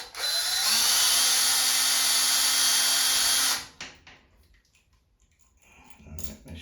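A power drill spins out screws from a toilet seat during a bidet installation, running loudly and continuously for about three seconds, then stopping, leaving faint rustling and handling noises.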